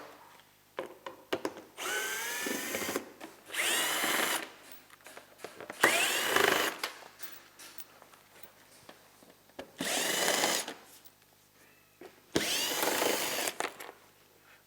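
A power drill or driver removes fasteners from a fender flare on a Polaris 900XP UTV, running in several loud bursts of a second or two each, separated by short pauses with faint handling clatter.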